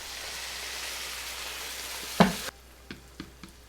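Water is poured into a hot pan of sautéed dried pollack, and a loud steady sizzle cuts off abruptly into a few soft knocks and clatters nearby.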